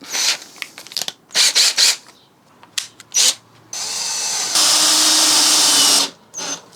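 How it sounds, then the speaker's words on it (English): Power drill driving screws into a wall to mount tool hooks, with short bursts of whirring followed by longer sustained runs as the screws bite, loud and close. "This is why you need 2 drills."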